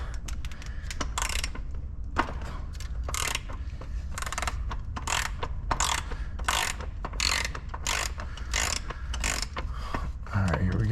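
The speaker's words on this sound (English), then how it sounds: "And now we're going to torque the cam bolt to spec." A ratchet torque wrench clicks repeatedly while tightening the cam bolt on an SR20DET engine, giving bursts of sharp ratcheting under a steady low background hum.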